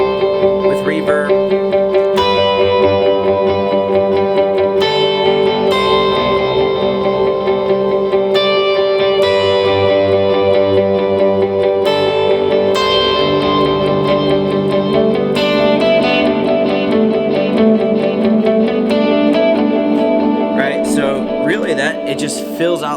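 Electric guitar drenched in reverb, chords ringing out and sustaining into a dense, washy tail that fills the space; steady and fairly loud throughout with no talking.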